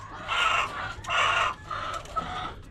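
Young chickens cluck and squawk close by in a coop in a few loud bursts, one after another, with no talking.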